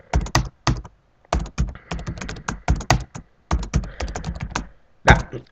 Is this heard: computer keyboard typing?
yes